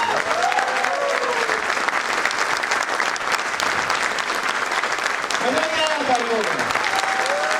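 Trainees at a Hippo Corporation sales training program applaud loudly and steadily, a thick wall of clapping that holds for several seconds while voices call out briefly at the start and again near the end.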